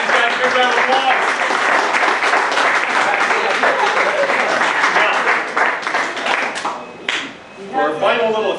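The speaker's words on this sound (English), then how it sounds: "Give these guys a big round of applause" A corporate event audience breaks into loud, dense applause for a comedy mentalist act, sustained claps that dip briefly near the end as a voice and faint music come through.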